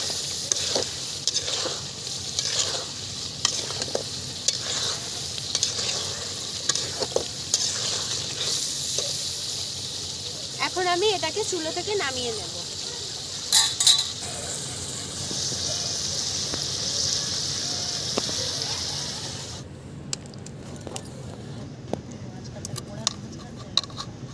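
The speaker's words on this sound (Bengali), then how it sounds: "এখন আমরা একবার নেড়ে নিচ্ছি" Chicken kosha is stirred in a pan with a sprinkle of garam masala, giving a continuous sizzle with repeated scraping and clinks of a spoon, and a voice speaks over it before the sound thins out near the end.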